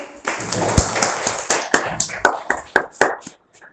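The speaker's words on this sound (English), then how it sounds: "Clap for her." A small group claps, starting as a scattered burst and thinning into a few distinct, evenly spaced claps that fade to silence.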